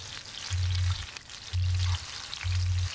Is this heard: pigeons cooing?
no